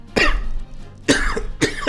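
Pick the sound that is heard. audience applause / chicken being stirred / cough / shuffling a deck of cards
cough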